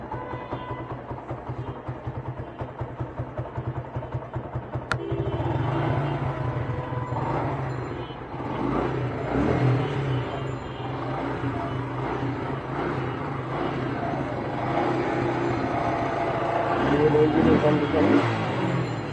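Old used motorcycle engine idling with a rapid regular putter, then revving louder and rougher, with people talking nearby over the engine.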